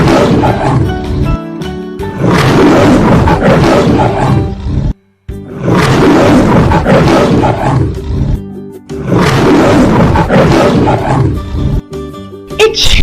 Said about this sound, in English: Lion roars.